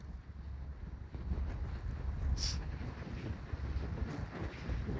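Cold wind blowing across a microphone out on the open deck of a ferry, a steady low rumbling buffet with faint water and engine noise beneath.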